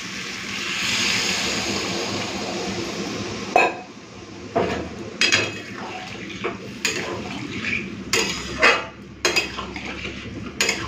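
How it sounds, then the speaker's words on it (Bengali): Water hits a pan of shrimp and pointed gourd with a brief hiss, then a metal spoon scrapes and clinks against the pan in irregular bursts as the mixture is stirred, all without talk. "জলটা দিয়ে একটুখানি মিশিয়ে নিলাম"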